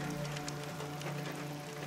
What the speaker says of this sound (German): Warum regnet es denn plötzlich hier?